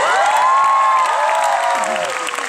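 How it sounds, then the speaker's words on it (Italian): A concert crowd at a show at Teatro Colosseo in Turin claps and cheers in a dense, steady wash, with sustained voices singing or shouting tones riding over the noise. "Ho detto farei un applauso subito."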